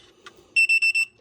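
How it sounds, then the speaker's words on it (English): A three-coin coin acceptor, reconnected to power, gives four loud, evenly spaced electronic beeps close by, with a short click just before them. "you hear it beeps and the zero is off"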